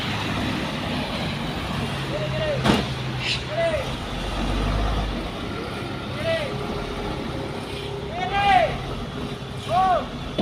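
Heavy Puso truck labouring up the steep Bukit Kodok hill with a broken axle, a low rumbling engine throughout with hissing air-brake bursts and squeals, people talking nearby.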